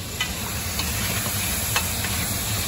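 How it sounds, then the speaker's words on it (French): Beef browning in a hot pan for a Malagasy romazava stew, a dense continuous sizzle and hiss close up, with a few brief stirring scrapes breaking through. "Trois minutes se sont passées et j'estime que la viande a assez coloré."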